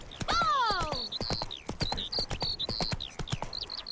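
Roach, Geralt's horse in the video game The Witcher 3, gallops with rapid hoof clip-clops and lets out a loud whinny, while a voice speaks over the hoofbeats.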